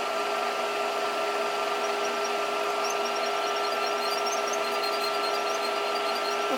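A 1914 Chevrolet gas tank strap nut turns on a lathe slowed to 130 RPM, giving a steady, continuous mechanical whir with a constant tonal hum and light high-pitched chatter, close and unbroken with no talk.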